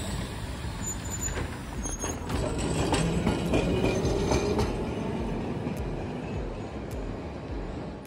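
A tram passing along a busy city street in Milan, a loud steady rumble of wheels on rails with brake hiss and metallic squeals, close by and swelling as it goes past, with no voices.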